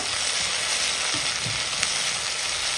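Softened onions sauté in a pan as they are stirred, a dense steady sizzle with a few soft scraping strokes, close and fairly loud, no voices.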